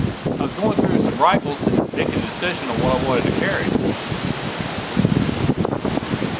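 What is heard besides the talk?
wind blowing on a blustery day, wind noise on microphone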